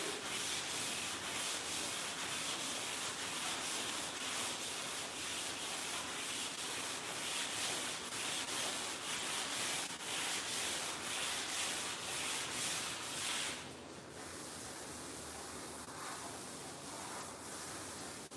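A sanding block is worked over the body of a Dart 440 car in rapid, rhythmic back-and-forth rasping strokes that run continuously, easing slightly lighter toward the end.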